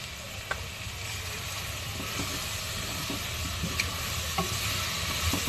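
Apretada cooks in a pan with a steady hissing sizzle and occasional soft scrapes and clicks of stirring, close and continuous.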